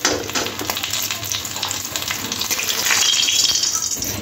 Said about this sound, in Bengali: মাছগুলো দু পিঠ এরকম লাল করে ভেজে নিতে হবে।